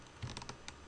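A few quick keyboard key presses, soft clicks spaced irregularly over a quiet background.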